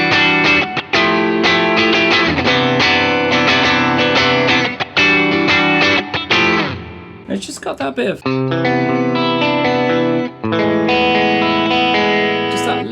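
Electric guitar played through a Mythos Herculean overdrive pedal, giving sparkly, lightly fizzy drive on bright chiming chords, loud and close, with a short pause midway and someone briefly talking over it.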